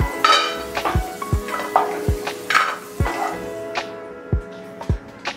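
Potato pieces frying in oil in a pan for a spiced aloo dish, with a continuous sizzle under repeated sharp metal clinks of a spoon stirring against the pan.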